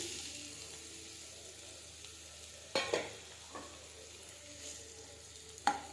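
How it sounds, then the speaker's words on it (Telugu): Onions frying for a chicken gizzard curry give a faint, steady background sizzle, punctuated by two louder clattering pan knocks and a softer tap, with no one speaking. "ఇప్పుడు కర్రీకి ఆనియన్స్ వేసుకుందాం"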